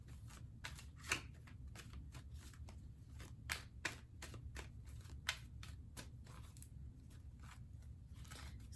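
Tarot cards being shuffled by hand at close range, a quiet series of crisp riffling snaps and flicks in irregular bursts over a low background hum.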